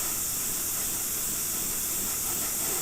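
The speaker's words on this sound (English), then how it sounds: "It's almost like sketching with the airbrush sort of thing." An airbrush sprays paint in light dusting passes, giving a steady, close, continuous hiss that holds evenly throughout with no voices.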